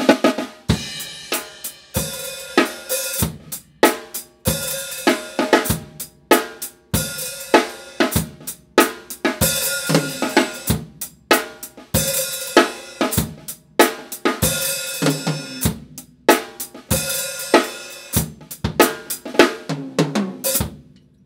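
A drum kit plays a steady, simple rock beat in 4/4 with kick, snare and cymbals in an even four-count groove, close and unaccompanied.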